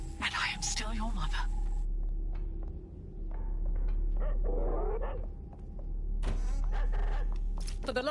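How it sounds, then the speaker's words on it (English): A Border Collie in Watch Dogs: Legion barks and yips in short bursts against a steady low engine drone, with game voices talking between them. "For the love of God, that's the dog."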